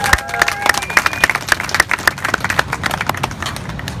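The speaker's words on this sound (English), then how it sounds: "So how about a round of applause for our emo dinners?" Crowd clapping in a round of applause at an outdoor Hawaiian luau, a steady spatter of many hands with faint whistles or calls on top, fairly close and continuous.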